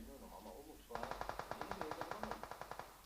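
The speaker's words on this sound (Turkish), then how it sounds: "M4 falan sıkıyor." An M4 rifle fires in a video game, a rapid string of about fifteen evenly spaced automatic shots at moderate loudness, with quieter game sounds before the burst starts.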